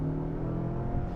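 A 2021 Mazda 6 with a 2.5-liter turbo engine and six-speed automatic, floored at full throttle in sport mode: a steady, droning engine note holding at moderate level from inside the cabin.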